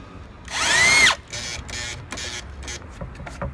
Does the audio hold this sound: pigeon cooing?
no